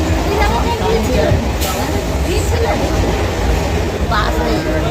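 A moving local train out of Sealdah rumbles loudly and steadily from inside the carriage, with a constant low roar under passengers' voices.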